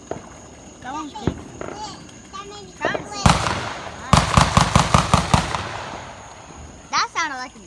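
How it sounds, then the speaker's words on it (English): Fireworks set off in an open field, a loud sharp crack followed by a rapid string of popping firecracker bursts, with people talking throughout. "That sounded like a gunshot."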